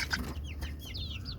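A desi chicken clucks close by in a village coop, giving a short burst of soft, throaty clucks and squawky upward calls over a low background hum.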